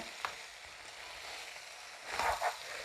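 Liver frying in a pan, Kuttanad toddy-shop style, with the water cooked off: a steady soft sizzle, and a brief clatter of stirring near the end.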